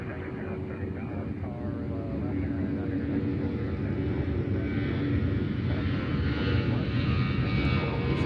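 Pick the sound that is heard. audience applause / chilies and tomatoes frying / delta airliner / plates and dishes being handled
delta airliner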